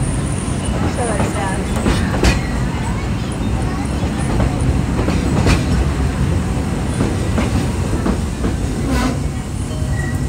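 Walt Disney World Railroad train at Magic Kingdom rumbles steadily along its tracks with rhythmic clicking of wheels over rail joints and occasional metallic squeals, heard from on board with a voice talking over it.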